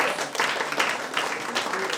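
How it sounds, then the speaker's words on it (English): An audience gives a round of applause for a doctor, with dense, continuous clapping at moderate loudness throughout. "I think she definitely deserves a big round of applause."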